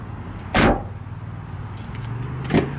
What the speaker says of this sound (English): Hear what it sounds like when I close this door.